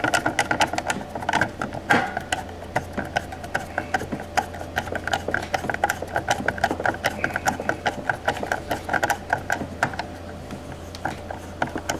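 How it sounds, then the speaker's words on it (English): Screws being driven into an RF 1000 commercial door knob during installation, producing a steady run of quick, close mechanical clicks and ticks for the whole stretch, with no talking. "we're gonna put the other small on top, and we're gonna screw it."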